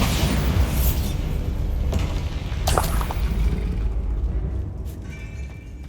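Spell explosions from Confringo and Bombarda in Hogwarts Legacy: booming magical blasts with crackling debris, a sharp burst near the middle, then fading rumble and faint mechanical creaks toward the end.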